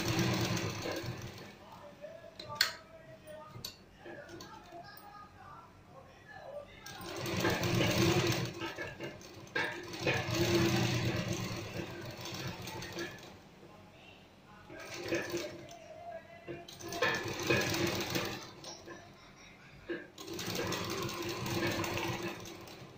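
A sewing machine stitches a sleeve in several separate bursts of fast whirring, each lasting a few seconds, with quieter pauses between them in a home tailoring setting.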